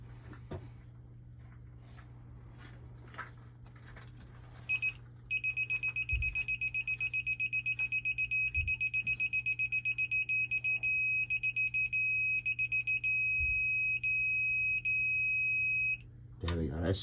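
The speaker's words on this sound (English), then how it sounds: "Steady beep is when you're at 20. The rapid beeping is when you're getting close." A digital torque wrench, set to 20 newton meters, emits a rapid train of high-pitched electronic beeps that runs steadily for about eleven seconds before stopping, close and clear over a low background hum.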